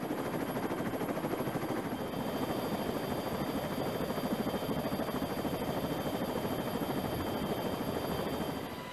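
A helicopter's rotor chops steadily and loudly throughout, a dense rapid thumping with engine whine, continuous and close with no voices.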